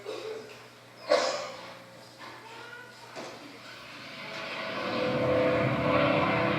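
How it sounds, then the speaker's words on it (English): Bomber aircraft engines drone as a radio drama sound effect, with an army bomber squadron in the scene; a sharp burst near the start, then a steady engine roar that swells louder toward the end, with no talk over it. "Army bomb plane B-843 of Bayonne, New Jersey."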